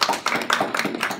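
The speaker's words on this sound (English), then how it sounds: "The president encourages a well-deserved round of applause for the team that drafted" A small group of people gives a short round of applause for a presidential speechwriting team. The clapping is dense and fairly close, with soft uneven bursts throughout.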